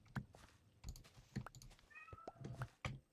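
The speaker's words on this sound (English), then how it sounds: "What are you meowing at?" A pet cat named Spirit gives a brief, quiet meow close by, heard amid the soft clicking and clacking of a computer keyboard being typed on.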